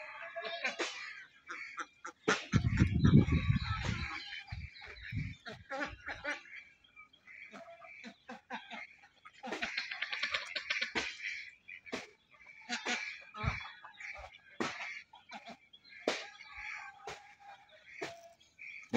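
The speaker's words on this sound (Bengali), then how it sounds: "দেখছেন আমার হাঁস" Domestic ducks by a village pond, a burst of loud close quacking and fowl calls early on, then scattered intermittent calls and chatter from several birds at varying distances, with faint outdoor background.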